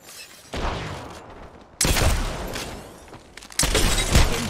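Video game gunfire in a two-against-one match: three loud bursts of shots, each cutting in abruptly and sustaining briefly before dropping away, with no voices over them.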